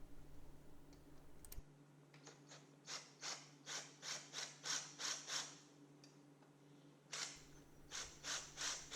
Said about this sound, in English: I'm just using this little hand drill here and some pretty commonly available drill bits